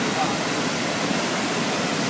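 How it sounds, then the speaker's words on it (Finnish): A rapids waterfall at Vanhankaupunginkoski in Helsinki, a steady, loud broadband rush of falling water filling the whole clip. "Sitten sulla on tän kosken vesiputous."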